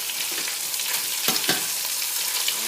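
A stuffed chicken breast sizzles steadily in a frying pan, a close, even hiss broken by two brief scraping shifts as it is moved. No one talks.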